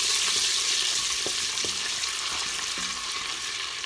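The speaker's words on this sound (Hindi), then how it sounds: "अब मैं इसमें ये लहसुन अदरक का पेस्ट डाल रही हूँ। इसको भी मिक्स कर लें" Garlic-ginger paste sizzles in hot oil with garam masala in a pot for Mughlai pulao, a dense, steady hiss broken by a few light stirring clinks.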